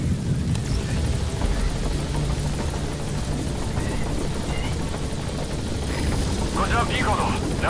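A helicopter in Metal Gear Solid V: The Phantom Pain hovers over an obstructed landing zone, its rotors making a loud, steady, low drone that runs the whole time beneath overlapping speech.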